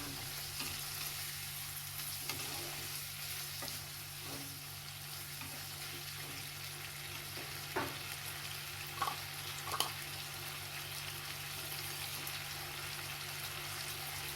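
Kale stir-frying with canned fish in a pan, a steady close sizzle running throughout with occasional soft clinks of stirring, no talk.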